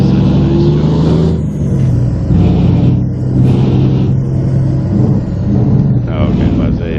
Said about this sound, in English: Sounds a little funky when it gets high rev.